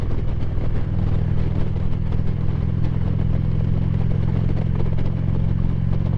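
A motorcycle runs steadily along a scenic road through rolling hills, its engine a continuous low drone with light clatter, close and unbroken for the whole stretch.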